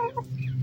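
Chickens in a large outdoor aviary give a brief, close cluck over a steady low background.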